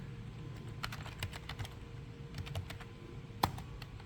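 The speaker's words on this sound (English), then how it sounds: "I'm just going to type it in because it's easier." Computer keyboard typing commands on an Ubuntu Linux computer, a steady run of close, light key clicks with one sharper louder keystroke near the end, no voices.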